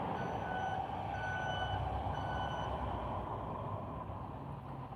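Vehicle reversing beeps repeat in a steady rhythm over a constant low rumble of nearby traffic, clear but not loud, with no talking.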